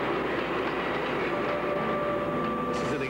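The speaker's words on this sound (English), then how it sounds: "This is an exact scale model of the actual railroad that Gus worked on most of his life" A train runs on a model railroad, a steady continuous rumble with faint rail clatter and a thin squeal, close and even throughout.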